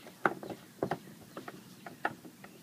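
A ratchet strap is snugged tight on a Yakima King Joe 2 bike rack fitted to a 2005 MINI Cooper S, giving a few quiet, close, irregular ratcheting clicks with short pauses between them.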